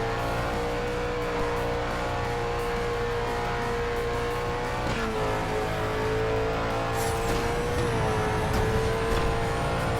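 An untuned Dodge Viper GTS races in the mobile game Need for Speed No Limits, its engine holding a loud steady drone with two gear shifts and a faint tire squeal, no talk.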